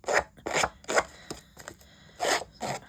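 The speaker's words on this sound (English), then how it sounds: "I'm just going to use my scissors just to distress the edge a little bit" Several short rasping snips and scrapes of scissors working along a paper edge, close by, in irregular bursts with brief quiet gaps.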